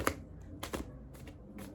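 Tarot cards being shuffled by hand, a few quick, soft riffling bursts separated by short pauses, close and fairly quiet.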